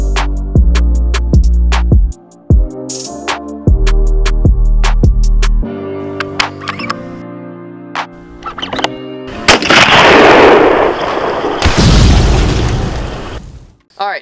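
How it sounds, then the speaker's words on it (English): Rifle shots from a Savage Model 110E chambered in .270 Winchester ring out as loud, sharp reports in a rapid series, ending in a burst of heavy, sustained noise. "I'm going to shoot the rifle"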